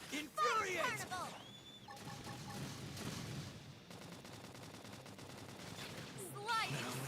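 Gunfire rattles in bursts during combat in the video game Xenoblade Chronicles X: Definitive Edition, fairly quiet and mixed with battle effects, and a voice speaks in places.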